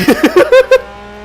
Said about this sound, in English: too bad the engine noise is not that great